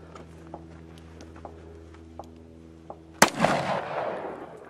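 Gunfire at steel targets at a shooting range: several faint distant clicks, then one sharp loud shot with a ringing, decaying tail at the end.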